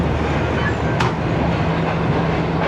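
Pakistan Express train rolling steadily through Khanewal Junction without stopping, a continuous broadband rumble with low steady tones and a brief sharp transient near the middle, no talk.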